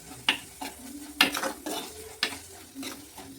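A spoon scrapes and clatters around a pan as prawns are stirred into a curry, with a faint sizzle beneath the repeated sharp scraping strokes.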